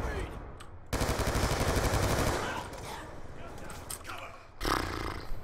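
Gunfire in Call of Duty: Black Ops 2, with a sustained burst of rapid automatic fire followed by scattered shots and a later short burst, mixed with game sounds and a player's voice.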